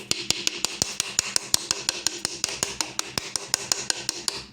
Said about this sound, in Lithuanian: Tada su plaktuku gražiai